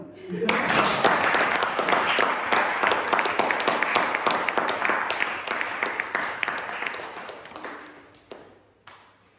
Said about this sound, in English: So let's clap again